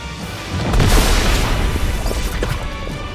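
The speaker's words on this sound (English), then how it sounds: "An explosion erupted right where the battle was taking place." A loud explosion in the video game Goddess of Victory: Nikke, with a heavy crashing boom that swells around the one-second mark and then rumbles on with scattered debris-like impacts, no voices.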